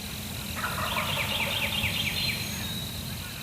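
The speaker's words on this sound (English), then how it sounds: "you could hear him calling back to Zach." An Eastern wild turkey gobbles in a swamp, a rapid rolling burst that rises over steady background hiss and insect noise, carrying from some distance at moderate loudness, with no one talking.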